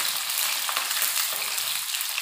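Chopped garlic sizzles steadily in hot oil, a dense, close crackling hiss that runs unbroken for a couple of seconds with no voices.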